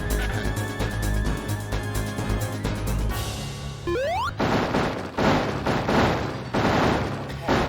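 Bursts of small explosions come from a spike ball in a 3D Sonic game on the Sega Saturn, a loud, rapid crackling volley that follows a rising electronic tone and steady game music.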